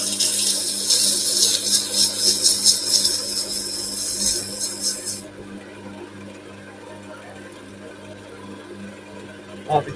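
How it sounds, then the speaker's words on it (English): Sandpaper rubbing against a turned wooden olive goblet, a close hissing scratch for about five seconds that then stops, leaving a low hum. "Might be time for some new, a new bit of sandpaper soon."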